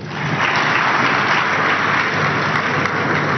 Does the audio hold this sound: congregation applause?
yes